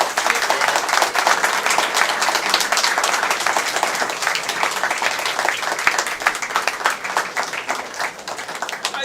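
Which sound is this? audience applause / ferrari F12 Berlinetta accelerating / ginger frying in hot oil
audience applause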